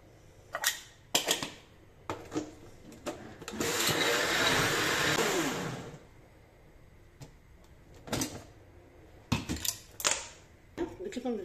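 An electric grinder whirs loudly for about two seconds, grinding cake ingredients including cocoa, between scattered clicks and clatters of kitchen handling.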